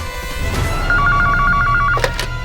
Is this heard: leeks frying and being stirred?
no